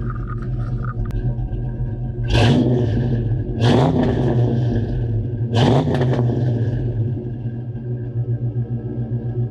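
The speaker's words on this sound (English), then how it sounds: "It's got like that raw OG 2-chamber Flowmaster sound. I'll give a little rev for you guys." A 1991 Ford Mustang Foxbody hatchback with a two-chamber Flowmaster exhaust idles with a deep, lumpy burble, then blips three quick revs that swell sharply and fall back, heard up close and loud.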